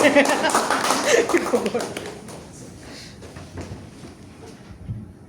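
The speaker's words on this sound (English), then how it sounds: "Please give a round of applause" Applause from members at a Toastmasters club meeting in Dubai starts loud and dense, then thins and fades over several seconds into scattered claps and faint voices.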